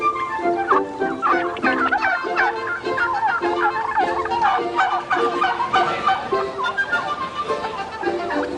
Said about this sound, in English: There's only one place that bird could have come from, and that's the North Berrington Turkey Farm.